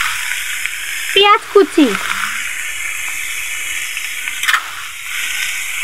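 Raw green papaya cut into four-sided pieces hits a hot pan for a Bengali bhaji, giving a steady close frying hiss that continues under a brief spoken remark.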